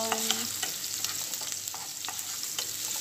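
Onions sizzle steadily in a hot pan of oil, with faint scraping of a utensil stirring them now and then, close and moderately quiet with no talking.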